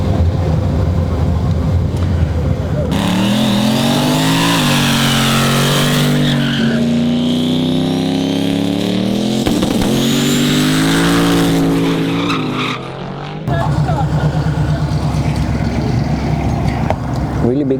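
A loud, upgraded pickup truck engine at Street Week Sweden revs in long, rising and falling sweeps. The roar runs almost unbroken for about seventeen seconds, with a short dip near the end.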